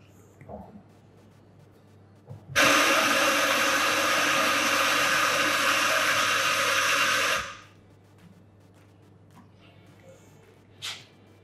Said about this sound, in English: So let's go ahead and brew an espresso.